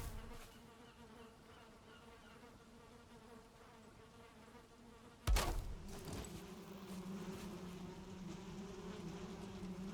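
Bees buzz at a beehive in the game Valheim, a faint steady drone that continues throughout, broken midway by a sudden thump after which the buzzing grows slightly louder.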